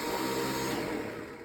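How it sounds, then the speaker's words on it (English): A household vacuum cleaner runs steadily and close, giving a loud, constant whooshing drone with a humming motor that fades slightly toward the end. "And also the sound of my vacuum cleaner."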